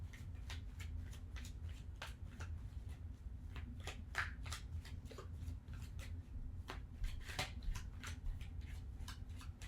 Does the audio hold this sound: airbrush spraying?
no